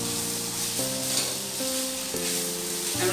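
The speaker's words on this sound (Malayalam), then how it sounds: "ഇനി നമുക്ക് നമ്മൾ വേവിച്ച് വെച്ച വൈറ്റ് റൈസ് ഇതിലേക്ക് ഇട്ട് കൊടുക്കാം. നന്നായിട്ടൊന്ന് മിക്സ് ചെയ്ത് കൊടുക്കുക." Cooked white rice is stirred into mustard oil in a hot pan for mustard rice. A steady, close sizzle runs throughout with soft stirring scrapes, and a faint, even tonal background sits underneath.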